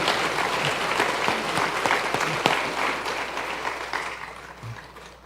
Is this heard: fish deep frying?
no